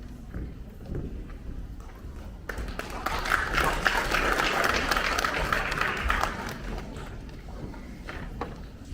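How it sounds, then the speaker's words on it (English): Audience applause breaking out after a formal speech at a program, a dense wash of clapping that swells from the middle of the clip, with background crowd noise and some voices. "there is someone who has assumed the leadership position of starting the clapping"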